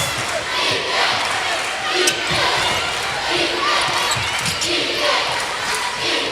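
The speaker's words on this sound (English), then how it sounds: "Crowd now wants some defense." Dense, loud basketball crowd at a women's championship game between Troy and Little Rock, roaring and chanting steadily for defense throughout, with sneaker squeaks and rhythmic thumps under the noise.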